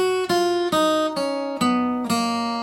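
An acoustic guitar plays the opening notes of a song as five ringing single plucks, evenly spaced and close up, each sustaining into the next, with no one talking.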